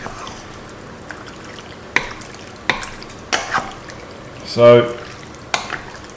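Rigatoni being stirred through sauce in a pan, with scattered soft scraping and stirring strokes and a brief wet slosh near the end; a short spoken word near the start.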